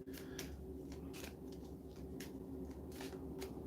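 Treasure cards from the Forbidden Island board game shuffled in a steady riffling series of soft papery flutters and slaps, close by against a constant low hum, with no talking.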